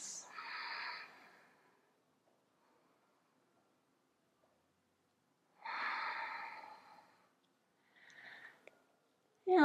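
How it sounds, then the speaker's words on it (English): Slow, audible Ujjayi breaths in a yoga class, long hissing exhales and inhales separated by several seconds of quiet, close to the microphone with no talking. "our Ujjayi breath to keep our body calm, to keep our mind calm"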